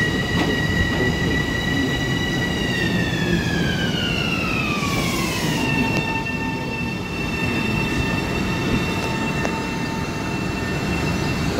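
LIRR commuter train at Flushing Main Street station, a loud, continuous rumble of rolling cars with a sustained high wheel squeal whose pitch slides downward midway, then holds steady.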